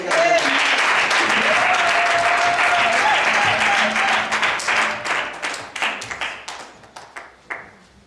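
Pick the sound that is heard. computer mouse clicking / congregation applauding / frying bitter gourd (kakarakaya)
congregation applauding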